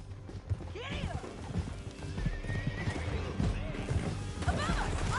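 A horse whinnies and hooves clip-clop in Red Dead Redemption, several neighs rising over steady galloping hoofbeats amid game action, with voices talking throughout.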